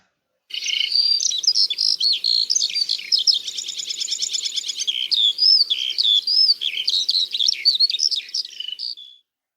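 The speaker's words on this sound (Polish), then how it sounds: "Posłuchajcie, jakie dźwięki wydaje skowronek." A skylark sings a long, unbroken stream of rapid, high warbling trills, close and clear against a quiet background.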